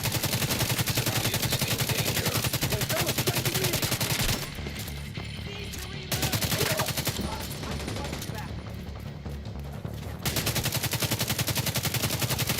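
Rapid automatic gunfire from AK and M4 builds in a shooter video game, loud dense bursts with a short pause midway before firing resumes.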